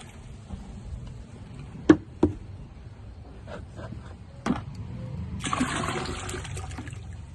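Water pours and splashes into a large bucket to prepare an Ayahuma bark bath, with a few sharp knocks first, then a steady rushing pour building toward the end.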